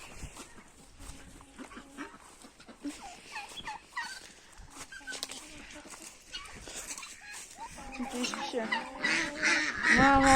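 Turkeys gobble and cluck in a poultry yard as birds are let out, with overlapping calls that grow louder and denser toward the end, and a voice speaks at times among them.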